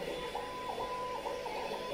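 A 3D printer with a Dragon hotend and direct-drive extruder running a speed test, faint steady stepper-motor whine with a rhythmic pulsing hum, quiet and alone.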